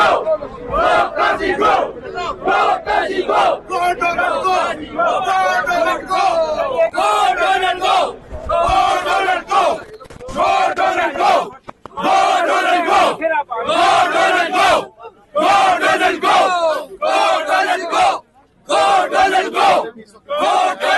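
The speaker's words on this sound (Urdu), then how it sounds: "گو قاضی گو کے نعرے لگائے جا رہے ہیں" Protesters outside the Supreme Court chanting a rhythmic slogan in loud unison, repeated bursts with short pauses between, a large crowd close by and dominating.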